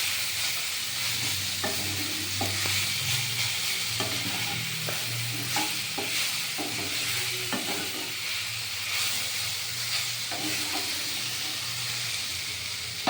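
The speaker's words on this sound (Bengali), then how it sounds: "এটা আস্তে আস্তে ভাজা হয়ে যাবে" Drumstick flowers sizzle and fry steadily in a pan, with a broad hiss and a low hum running underneath. Repeated scraping stir strokes clatter through it at an uneven pace.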